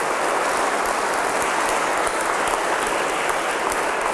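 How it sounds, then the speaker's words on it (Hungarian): Steady, dense applause from a gathered crowd honouring a club's honorary president, a continuous rain-like wash of many hands clapping at an even level throughout. "Egy tapsot kérnék szépen a Pali bácsinak."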